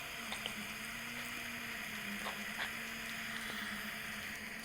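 Water from a house supply runs through an RO-DI pure water system for window cleaning, giving a steady, faint hiss and trickle with a constant low hum and a few soft clicks.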